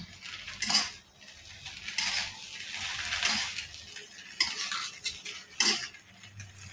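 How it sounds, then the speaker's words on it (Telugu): A utensil scrapes and clinks against a pan while Maggi noodles are stirred with their masala powder over low heat, with irregular close rattles and a faint sizzle underneath and no talk. "మ్యాగీ నూడిల్స్ పౌడర్ వేసుకోవాలి ఒక ప్యాకెట్ సిమ్లో పెట్టుకొని ఇలాగ మొత్తం కలుపుకోవాలి"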